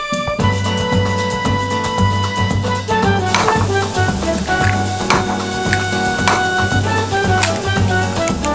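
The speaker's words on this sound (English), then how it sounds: "I'm gonna make an omelet with mushrooms, sausage, cheese, spinach" An omelet with mushrooms, sausage, cheese and spinach fries in a pan. A loud, steady sizzle runs throughout, overlaid by a regular rhythmic scraping and stirring with a utensil, and no one speaks.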